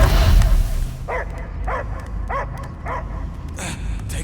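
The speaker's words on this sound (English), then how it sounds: "I hear only barking." Dog barking in the video game Guardians of the Galaxy: five evenly spaced barks ring out clearly over a low rumbling game backdrop, following a loud opening rumble.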